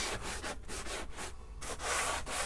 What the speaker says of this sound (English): Just going to remove any loose paper with a sanding sponge